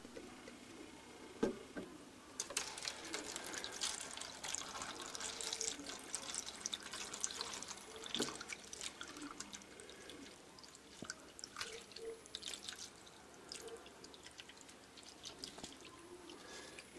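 Water poured from a container into a pot of celery seed set in a south-facing window, a faint, steady trickle with scattered drips, heard close and without voices.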